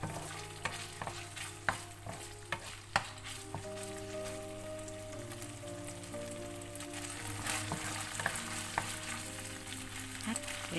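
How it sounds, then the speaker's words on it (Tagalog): Carrot slices stir-fry with egg tofu for a hotpot dish in a hot pan, a continuous soft sizzle broken by sharp spatula clacks and scrapes at an uneven rhythm. No one speaks. "Stir fry lang natin hanggang sa lumambot yung ating carrot."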